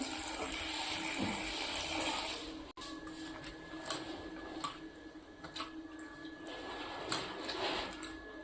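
Sliced cabbage for cabbage bajji gets washed by hand in a vessel of water, with close sloshing, squelching and splashing bursts that come and go irregularly, and no talk.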